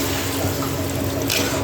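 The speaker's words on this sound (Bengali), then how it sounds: "পুরিটা কষানো হয়ে গেলে আমি এর মধ্যে জল দিয়ে দেবো" Water pours into fish curry masala in a pan for a rui fish curry, giving a brief, close liquid splash and squelch.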